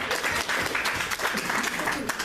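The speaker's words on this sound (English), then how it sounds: "that is worth a round of applause" An audience at a Catholic citizens luncheon breaks into brief, dense clapping that holds steady for a couple of seconds at close range.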